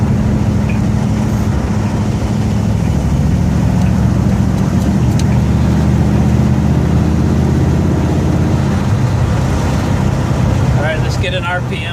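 Ford F100 pickup with a 302 V8 revving up through the gears, a loud close engine drone rising and falling as it pulls, with a brief bit of talk near the end.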